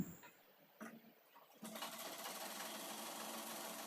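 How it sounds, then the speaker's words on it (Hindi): Sewing machine stitching a straight seam in fabric, a few short starts and then a steady close whirring run of stitches to the end, no talking. "तो चलिए सीधी सिलाई लगा लेते हैं"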